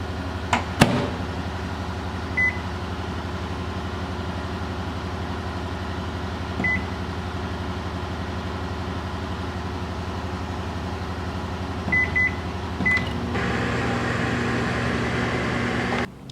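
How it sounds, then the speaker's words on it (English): A kitchen microwave oven runs with a steady low hum, with a few short beeps and clicks along the way, and the hum grows louder near the end. "And I'll place this in my microwave."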